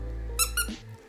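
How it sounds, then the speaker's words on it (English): A crunchy, stuffing-free dog toy made from recycled plastic bottles gives two quick, bright squeaks close up, then a brief crinkle over a low background hum. "crunchies for your dog to play with, and it squeaks."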